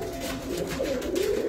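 Kodi pigeons in a rooftop loft coo in low, soft, continuous murmurs, several birds close by and layered over one another without pause.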